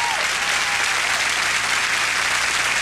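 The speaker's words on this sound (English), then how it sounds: "love how the crowd is so willing to give that standing ovation." A concert crowd gives a standing ovation, dense continuous clapping filling the whole stretch at steady loudness with a faint voice briefly at the start.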